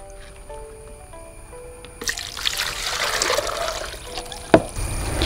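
Water is poured into a 10-litre plastic bucket while a homemade fungicide is prepared. After a quiet start with a faint steady tone, a splashing, trickling pour begins and continues close by, with a sharp knock near the end.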